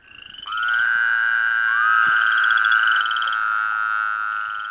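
A Woodhouse's toad gives a loud, close, sustained nasal bleating trill that rises in strength and holds for several seconds beside a shallow breeding pool, with no talk over it.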